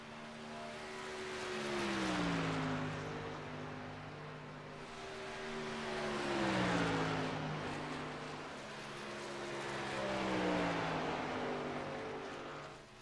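Racing truck engines lapping the track at Charlotte in iRacing, three rising and falling passes of a droning engine whose pitch sweeps down as each truck goes by, moderately loud with no talking.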